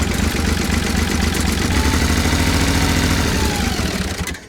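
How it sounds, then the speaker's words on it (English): Front end loader engine running, a loud, close, rhythmic diesel chugging at a steady idle that drops off abruptly at the end as the engine cuts out. "Let's see if the backhoe, or the front end loader rather, functions"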